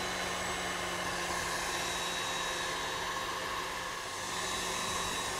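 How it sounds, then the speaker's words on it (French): An electric hand mixer beats egg yolks at maximum speed for a caramel pear charlotte, giving a steady, loud whirring drone that runs without a break the whole time and dips only briefly near the end. "je vais mettre mon batteur à vitesse maximum"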